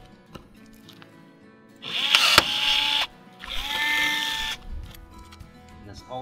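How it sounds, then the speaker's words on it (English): Pneumatic rivet gun driving rivets through a rail into a corn head deck plate, two loud bursts of harsh rattling hammering, about a second each, separated by a brief pause, with a sharp crack in the first burst. "If you don't have a pneumatic rivet gun, I do recommend getting one."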